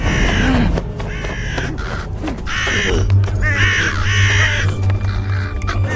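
Crows caw repeatedly in harsh, loud, overlapping calls, several birds close by, with a steady low rumble underneath and no speech.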